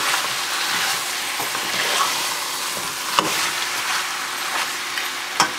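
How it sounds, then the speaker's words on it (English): Lamb biryani masala stirred in a hot pan, a steady sizzle with scraping stirs and a couple of sharp clinks, close and continuous without talk. "Mix this really well."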